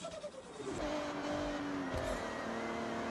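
A stock Toyota Supra in Forza Horizon drives along with a steady engine drone and tonal whine that shifts pitch as it changes gear, fairly quiet and heard alone.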